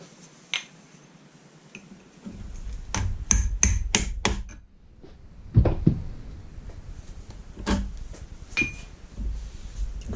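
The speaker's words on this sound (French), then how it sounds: "Le marteau." Sharp metallic hammer taps on a tube over a bearing while assembling a Solex moped wheel hub, a quick run of strikes followed by a few scattered, heavier knocks, close and ringing.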